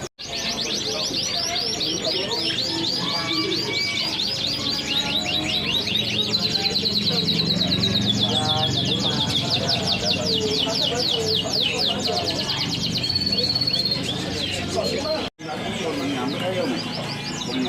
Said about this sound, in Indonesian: Jadi untuk kicauan ini bisa simak sendiri atau nilai sendiri ya.